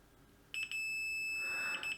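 A digital multimeter set to continuity gives short beeps while testing a fuse from a Milwaukee Rocket work light: three quick chirps, then a sustained tone, then a few more quick chirps, clear and close in a quiet room.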